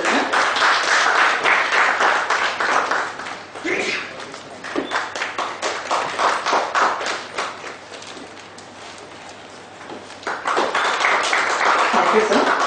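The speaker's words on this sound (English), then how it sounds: "Big round of applause, ladies and" Audience applause fills a lecture hall for speakers being welcomed with floral bouquets, loud dense clapping that dips midway and swells again toward the end, with voices talking faintly beneath.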